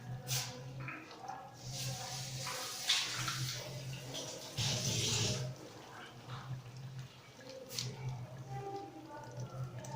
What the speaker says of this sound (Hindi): इसका पानी डालेंगे, गुठलियाँ नहीं डालेंगे।